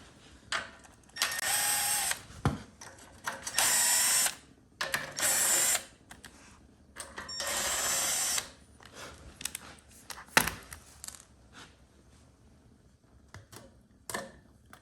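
A wrench retorquing bolts on a Generac pressure washer, heard as several close, second-long bursts of rapid ratcheting clicks separated by short pauses and a few isolated knocks.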